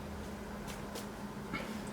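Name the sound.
cat meowing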